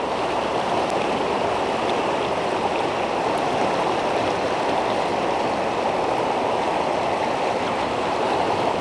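Fast, high river water rushing steadily where trout are fished, a loud unbroken broadband roar of current holding even for the whole stretch, with no voices over it.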